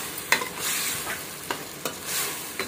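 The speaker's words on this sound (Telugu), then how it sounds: "ఇందాక అల్లం వెల్లుల్లి పేస్ట్ యాడ్ చేసుకొని బాగా కలుపుకోండి" Ginger garlic paste fries in a pan with a steady close sizzle, broken by several sharp scrapes and taps of a spoon as it is stirred.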